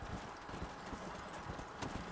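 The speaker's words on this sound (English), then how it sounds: "Look, a horse. Look, another horse." Horses clip-clopping in the Western video game Red Dead Redemption, a steady brisk patter of hooves on dirt under a continuous ambient bed, with one sharper clack near the end.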